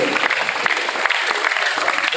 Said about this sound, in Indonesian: Tepuk tangan untuk kita semua malam hari ini.